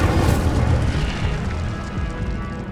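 An Incendio fire spell bursts in Hogwarts Legacy with a deep, rumbling whoosh that stays loud and dense, then slowly fades over a couple of seconds.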